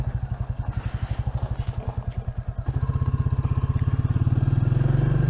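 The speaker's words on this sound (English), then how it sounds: "Very gravelly drive this. Like riding on sand." A Super Seven sports car rolls along a loose gravel drive, its engine pulsing in a steady low throb that rises and thickens as it pulls away, with gravel crackling beneath the tyres.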